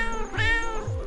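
A cat in the video game Tokyo Dark meows twice in quick succession, close and clear, with a short rising cry followed by a second similar call.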